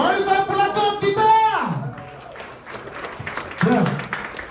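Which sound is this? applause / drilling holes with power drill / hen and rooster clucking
applause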